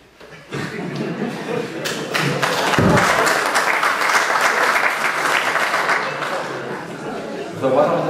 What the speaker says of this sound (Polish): Zauważam, że pierwsze brawa.